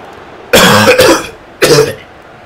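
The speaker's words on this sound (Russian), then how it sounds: "Просто это кашель, просто не могу." Two loud, close coughs from a gamer streaming FIFA 17 on PS4, the first a double burst and the second a single harsh cough after a short pause.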